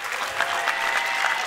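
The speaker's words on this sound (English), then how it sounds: "So please give my friend Wolfgang a big round of applause." A comedy special audience gives a big round of applause for a guest, a short, dense burst of clapping close and loud.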